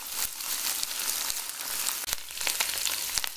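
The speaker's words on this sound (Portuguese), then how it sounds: "Aquela aguinha da carne já secou e agora ela tá começando a fritar." Beef strips frying in a pan, a steady close hiss of sizzling fat with small pops and crackles scattered throughout, no talking.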